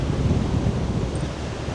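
Strong wind buffets the open deck of a ferry crossing the North Sea at night, a steady, loud low roar of gusting air without voices.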